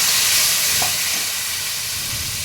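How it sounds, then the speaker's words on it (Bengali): Loud, steady sizzling of spice paste frying in hot oil for a banana flower kofta curry, a dense crackling hiss that holds throughout with a brief stir near the start. "এবার আমি মশলাটা ঢেলে দিচ্ছি"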